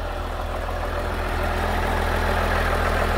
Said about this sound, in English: flawless, engine is running